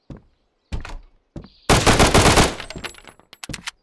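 Automatic rifle fire from the survival shooter Road to Vostok: two short bursts, then a long sustained stream of loud rapid shots with echoing tail and a few final single cracks.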